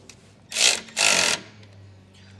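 A 10 millimeter nut on a Roadmaster Direct-Connect base plate for a 2022 Jeep is tightened with a power tool, giving two short loud whirring bursts close by, then quiet.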